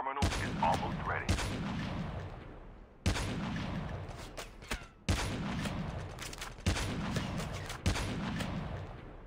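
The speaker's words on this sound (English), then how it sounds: "I hear gunshots in the distance" Bursts of distant gunfire in a Call of Duty Mobile battle royale match, several sharp cracks and rattling volleys separated by brief lulls, with game ambience filling the gaps.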